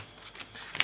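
A deck of 51 playing cards being shuffled in a quick, soft burst of riffling and snapping card edges, close and fairly quiet, with no voices.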